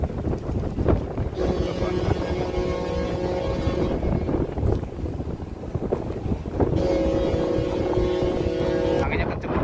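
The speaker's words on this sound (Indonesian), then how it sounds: "Anginnya kenceng banget ya." Strong sea wind buffets the microphone on a ferry, a constant roaring rush with low engine rumble and long tonal horn-like drones, and people talking intermittently.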